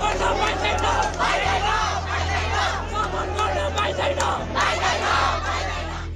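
A crowd of student protesters, many in school uniforms, marches toward Nepal's parliament, producing a dense, steady roar of chanting, yelling and overlapping voices throughout.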